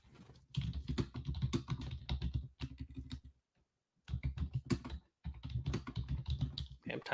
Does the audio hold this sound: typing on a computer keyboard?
yes